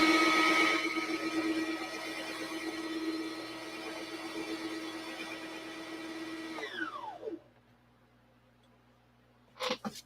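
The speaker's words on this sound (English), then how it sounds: "I'm about to use the sewing machine" A sewing machine runs steadily with a dense whirring motor for about seven seconds, then winds down in pitch and stops, followed by quiet and a brief clatter at the end.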